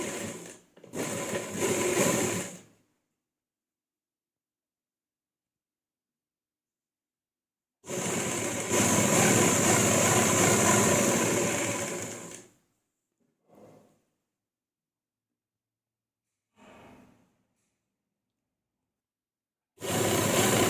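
Sewing machine stitching piping onto a dupatta, running in two loud sustained bursts separated by a long pause, with a few faint clicks and a short final burst; no talk.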